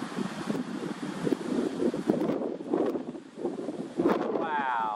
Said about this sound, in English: Wind is intense, man.